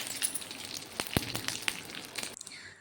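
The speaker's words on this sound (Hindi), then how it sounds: "अब हम तड़का लगा लेते हैं सांभर में। इसमें 2 चम्मच घी डाल दिया है।" Hot ghee sizzles softly in a pan for tempering sambar with a steady hiss, broken by a few sharp crackles and pops before cutting off.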